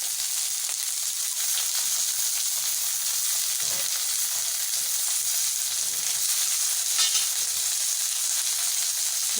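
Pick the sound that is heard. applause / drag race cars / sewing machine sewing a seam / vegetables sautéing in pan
vegetables sautéing in pan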